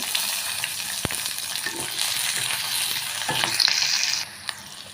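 Small onions with green and dried chillies fry for Tumkur chutney, giving a dense, continuous close sizzle with stirring scrapes and one sharp tap of a spoon, and the sound drops off near the end.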